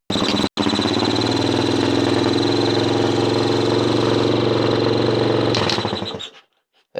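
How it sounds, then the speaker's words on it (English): A pit bike engine fires up after a brief catch and settles into a loud, steady close-up idle that runs for several seconds before cutting out abruptly. "So if I start the bike up"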